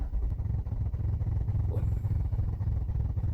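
A car engine cranks on the starter during a compression test with the accelerator held wide open; the engine has a misfire from a broken valve spring in cylinder 3. Steady, close, rhythmic low chugging runs throughout, with no talking.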